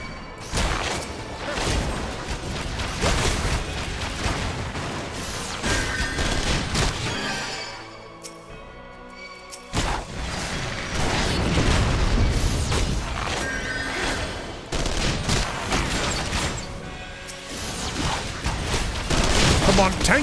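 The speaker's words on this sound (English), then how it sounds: "I just took a blast of magitek cannons." Magitek cannon blasts in Final Fantasy XIV: heavy booming blasts and rapid explosive bursts pound almost continuously, with a brief lull midway, mixed with game sound effects and occasional talk.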